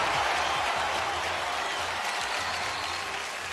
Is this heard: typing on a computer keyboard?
no